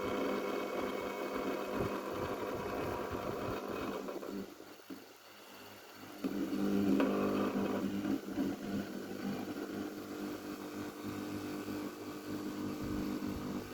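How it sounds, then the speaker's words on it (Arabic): The drain pump of a Zanussi washing machine runs during the spin stage with a steady mechanical hum. The hum dips briefly midway, then comes back louder and rougher. "الترومبة دخلت معانا في الطارت"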